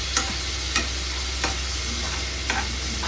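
Cauliflower and capsicum curry being stir-fried in butter in a pan: a steady sizzle with regular scrapes of a spoon against the pan, heard up close with no talking.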